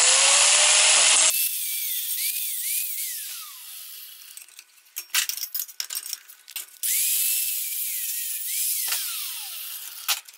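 A cutting disc scoring a small cut in metal tubing, a loud high whine at first, then a spinning-down hum, with a stretch of choppy grinding bursts in the middle before the whine returns.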